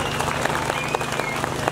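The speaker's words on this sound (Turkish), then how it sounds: "Askerlerimize şöyle bir alkış edelim." Crowd at an outdoor mountain plateau festival in Turkey applauding soldiers, dense steady clapping from many people throughout.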